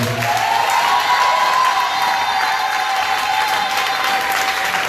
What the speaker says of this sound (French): Tu peux donner l'offre d'acclamation ce matin aussi.